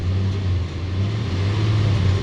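A 2004 Ram with the 5.7 Hemi V8 runs close by with a steady, low engine drone, holding a fairly even throttle without a sharp rev climb.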